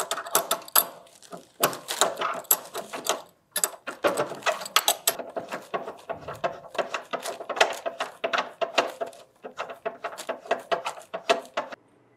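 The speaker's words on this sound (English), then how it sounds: "So we'll take a crescent wrench and adjust the feet." A crescent wrench turning the leveling feet of a PHCbi VIP ECO ultra-low freezer, heard as a long run of close, sharp metallic clicks and ratcheting scrapes in irregular bursts with brief pauses.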